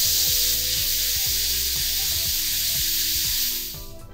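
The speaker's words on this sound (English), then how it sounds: "the pressure cooker is taking up a lot of the noise level here" A pressure cooker holding cowheel soup hisses steadily and loudly while its pressure subsides, a broad continuous rush of steam that fades near the end, with faint background music beneath.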